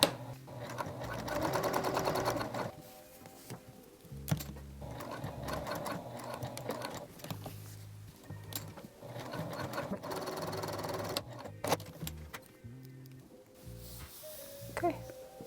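A sewing machine stitches polyester thread around a homemade dog or cat collar, about an eighth of an inch from the edge, running in several steady whirring bursts with short pauses between them.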